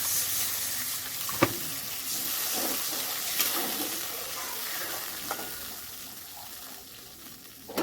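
Water is poured into spices frying in oil for a vegetarian dal curry, producing a loud sizzling rush over a continuous hiss, with a few sharp clatters of the utensil.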